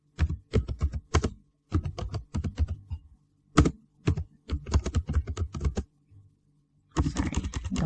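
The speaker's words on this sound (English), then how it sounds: "So I'm going to type my question now." Fingers type on a computer keyboard in quick clattering bursts separated by short pauses, close and fairly quiet, with a denser run of keystrokes at the end.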